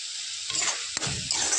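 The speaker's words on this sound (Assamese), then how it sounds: "এতিয়া মই ইলাচিখিনি মই দি দিছোঁ" Cardamom pods sizzle steadily in hot oil in a pan for apple and date halwa, a continuous close hiss with a few brief stirring scrapes and one sharp click near the middle.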